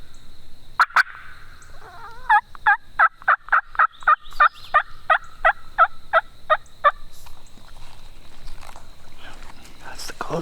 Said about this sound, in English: they definitely sound like two different turkeys